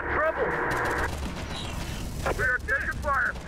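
Gunfire in the Terminator Dark Fate Defiance real-time strategy game, with a few short bursts and several crackling shots coming in quick clusters over steady battle noise.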